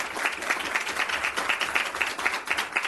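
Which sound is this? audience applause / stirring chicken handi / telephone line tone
audience applause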